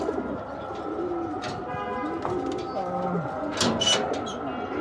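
Racing pigeons being released, several birds cooing in soft repeated rising and falling phrases close by, with wing flaps and light background noise.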